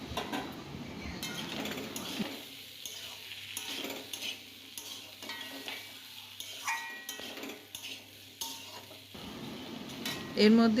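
Prawns and spices are stirred and sautéed in a pan, with a spoon scraping and clinking against the metal over a soft sizzle at a fairly even rhythm.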